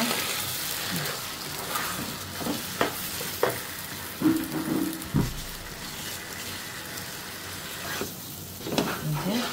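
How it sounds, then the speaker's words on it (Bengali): Pulao rice fries in a pan with fried onions, a continuous sizzle punctuated by repeated scraping and clattering as it is stirred. "চালটা আমি অনেক সুন্দর করে ভাজা ভাজা করে নিচ্ছি।"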